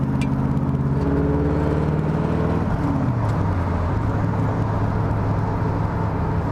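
A 1965 Chevrolet Corvette C2 Stingray in Nassau Blue drives past close and loud, its engine note rising through the gears and then settling into a steady, deep, continuous drone.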